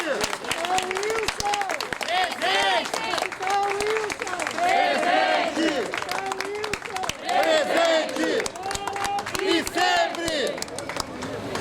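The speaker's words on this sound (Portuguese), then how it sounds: "ela pediu que seja convertido não de silêncio, mas de palmas, de aplausos ao capitão Wilson da Silva, José Wilson da Silva." Crowd applause and cheering at a political rally honoring Captain José Wilson da Silva, sustained clapping with shouts throughout, loud and dense, with voices calling out over it.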